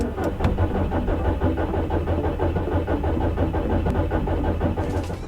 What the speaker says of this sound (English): the noise of someone trying to start their car and it continually turning over